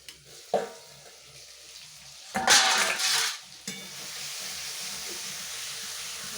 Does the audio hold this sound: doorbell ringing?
no